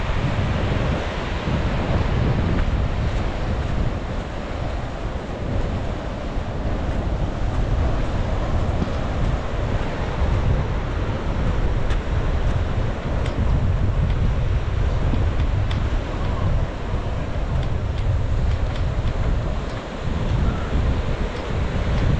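Surf and wind on the rocky shoreline of Vagator Beach in North Goa form a steady, loud, unbroken wash of broadband noise with no voices.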